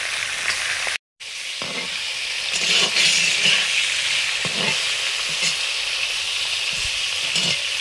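Snakehead fish head rubbed with salt and turmeric sizzles steadily in hot oil, a dense, loud frying hiss with a few soft scraping stirs and a brief dropout near the start.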